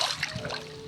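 A brief, close splash as a person jumps into water from a high point, a burst of wet spray and sloshing lasting under a second.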